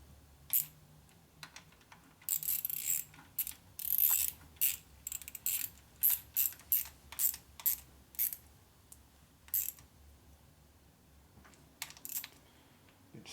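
Bolts being fitted and tightened with a ratcheting tool on the generator of a 1961 Harley-Davidson FL 74ci panhead engine: repeated quick metallic clicks in short bursts, close and fairly loud, with no voices.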